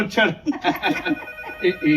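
A landline telephone rings at home, its bell-like tone mixed with people talking over it through the whole stretch.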